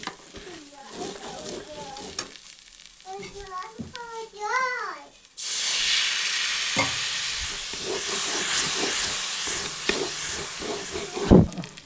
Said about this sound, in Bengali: তো এরপর মশলাটিকে কিছুক্ষণ ভেজে নিচ্ছি হালকা জল দিয়ে।